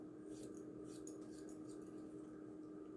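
Scissors snip through hair during a front-fringe haircut, a steady run of soft crisp cuts over a constant low hum.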